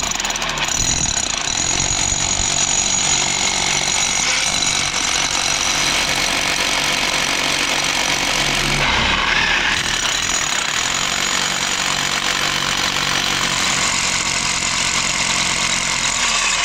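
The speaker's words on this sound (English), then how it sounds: "Okay, more drilling." A powered drill bores into rock while mining for star sapphires, running loud and continuous with a steady hammering rattle and a brief dip near the middle.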